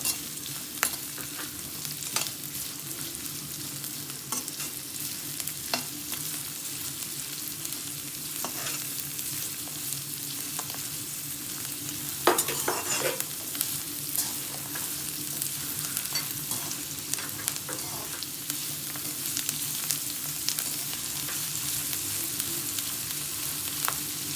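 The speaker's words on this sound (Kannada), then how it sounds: "ಈರುಳ್ಳಿ ಚೆನ್ನಾಗಿ ಫ್ರೈ ಆಗಬೇಕು" Onions fry in a pan for cashew chicken fry, a continuous close crackling sizzle broken by frequent spatula scrapes and stirring knocks, with one louder clatter near the middle.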